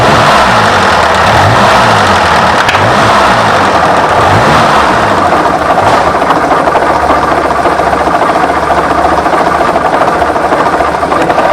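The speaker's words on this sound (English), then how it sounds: "The engine picks up its speed wondrously quickly, with the low boom of its exhaust note rising pleasantly and clear as the car shoots away." Bugatti car engine pulling hard under acceleration, a dense, loud exhaust note with a low boom and repeating rising sweeps, sustained throughout.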